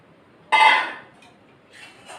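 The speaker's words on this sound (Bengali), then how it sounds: "এই কড়াই ধুয়ে মশলা ধোয়া জলটা দিয়ে ভালো করে কড়াইটা ধুয়ে" A metal kadai is rinsed out with spice water in a home kitchen while mutton curry is being made: one short, sharp clattering splash, followed by faint shuffling clinks.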